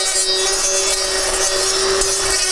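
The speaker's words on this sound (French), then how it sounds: "On entend bien le bruit de la lame." A cordless Greenworks 40V bike-handle trimmer fitted with a blade cuts holm oak shoots outdoors, giving a steady, loud whirring whine with gritty, rasping cutting noise that runs continuously throughout.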